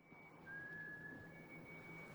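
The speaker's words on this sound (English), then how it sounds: "He's tying in the same tune that he was whistling on the beach" In a 2003 film scene, a thin, steady whistled note holds for a couple of seconds over a low background rumble, faint and unaccompanied by talk.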